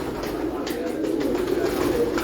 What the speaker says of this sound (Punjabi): ਇਹ ਇੱਕ ਐਸਾ ਕਬੂਤਰ ਹੈ ਸਬਜ਼ਾ ਇਹਦਾ ਨਾਮ।